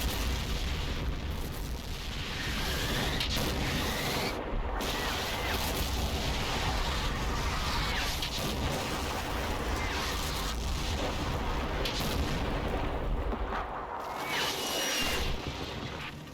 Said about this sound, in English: whilst under fire from the artillery